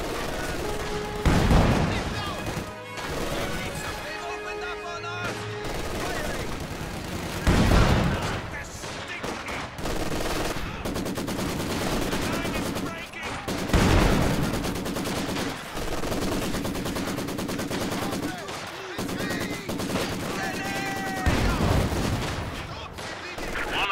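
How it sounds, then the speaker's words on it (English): Dense gunfire and machine-gun bursts in Company of Heroes 2, a World War II strategy game, with rifles and automatic weapons rattling continuously, heavier booms landing every few seconds, and radio-style voices calling out under the noise. "Taking fire! Infantry shooting at us!"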